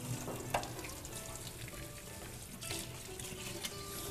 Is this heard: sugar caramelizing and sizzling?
yes